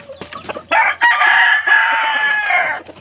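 A rooster crows once in a backyard, loud and close, a long drawn-out call following a few short sounds.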